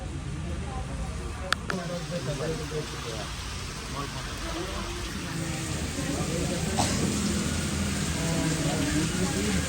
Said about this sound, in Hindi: बारिश हो रही है तो क्या करोगे?